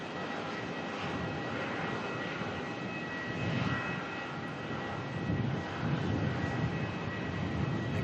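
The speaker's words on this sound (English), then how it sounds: "Etihad from Abu Dhabi coming on in now" An Etihad Boeing 787 from Abu Dhabi comes in to land at Melbourne, a distant, steady jet rumble with faint engine whine that swells slightly toward the end.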